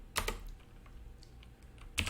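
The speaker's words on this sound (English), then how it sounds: "This is just a lot of typing." Typing on a computer keyboard: a few sharp key clicks near the start, sparse quieter taps through the middle and another firm click burst at the end, close and fairly faint.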